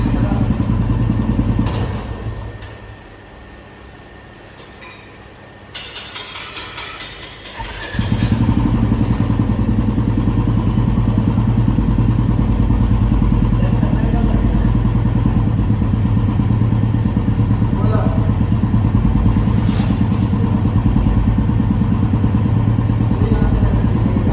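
Royal Enfield Classic 350 BS6 in stealth black runs steadily during a workshop vibration test for loose bolts, a loud continuous engine drone that dips briefly near the start before settling into an even, sustained run.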